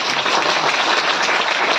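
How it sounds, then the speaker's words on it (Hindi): Congregation at a Christian gospel meeting in Biswanath, Assam, clapping loudly together, a short dense burst of claps with no voices. "एक बार ताली बजाइए जोर से।"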